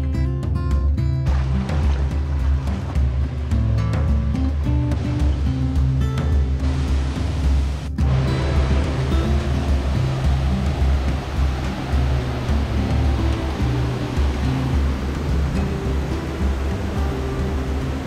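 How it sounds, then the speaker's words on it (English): Roaring waterfall at a hidden falls in Samboan, Cebu, a loud, steady broadband rush of falling water that fills the whole scene without pause. "we made it to the main waterfall"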